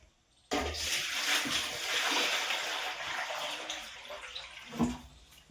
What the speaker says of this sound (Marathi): आता चला किचन पुसून घेऊयात